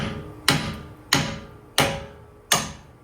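Four evenly spaced, sharp metallic hammer blows strike a pointed bolt during a CV axle replacement on a 2011-2018 Dodge Durango. Each hit rings briefly and decays before the next.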